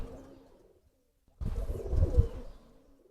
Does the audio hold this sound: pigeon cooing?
yes